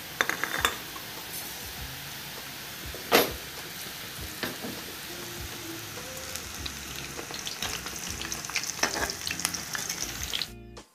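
Coated potato fries sizzle steadily in hot oil in a kadhai over a medium flame, a dense crackling hiss with occasional scraping clinks from stirring and one sharp knock partway through.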